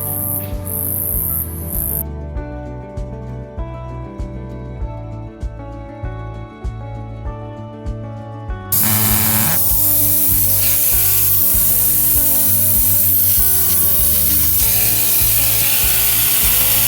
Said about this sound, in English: We'll let down the tyres.